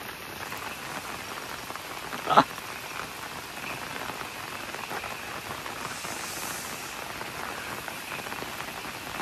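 Steady rain patters on leaves and ground in a forest near Kallambi, Soraba, India, with one brief louder knock partway through and no talking.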